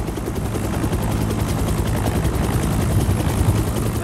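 Helicopter in the video game Predator: Hunting Grounds, a steady loud rotor drone with rapid chopping pulses, continuous throughout with faint gunfire-like crackle mixed in.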